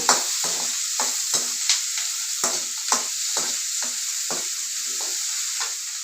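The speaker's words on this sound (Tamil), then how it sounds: "வெங்காயம் கொஞ்சம் வதக்கணும் அடுத்து பூண்டு ரெண்டு வாய் போட்டுக்கலாம்" Onions and garlic sauté in a pan for a goat blood fry, with a constant bright sizzle and a spatula scraping through them in a quick, regular rhythm of about two strokes per second, close up.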